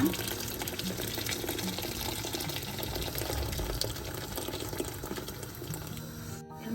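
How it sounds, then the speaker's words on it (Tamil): Water streams steadily into a cooking pot while Jaffna odiyal porridge is made, a continuous close splashing and gurgling that runs for several seconds with no talk, cutting off briefly near the end. "கூழுக்கு தேவையான தண்ணியை விட போறேன்."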